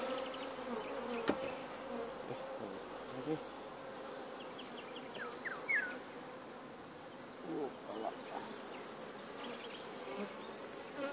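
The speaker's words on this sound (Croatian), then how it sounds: "Pčela radilica još nije uspjela dolje na teren" Worker honeybees buzzing around an artificial swarm at an apiary, a steady low hum with occasional louder passes of individual bees near the listener, no talk.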